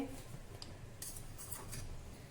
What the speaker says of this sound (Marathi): एक वेळा यामध्ये चाकू फिरवून घेऊ, म्हणजे कुठे जर चिकटला असेल तर सहज निघून जाईल